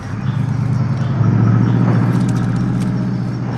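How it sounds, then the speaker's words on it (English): A medium transport truck rumbles through a main gate in a Call of Duty game, its engine a steady low drone with rattling and clanking on top and little talk. "Vehicle coming in the main gate. Medium transport truck."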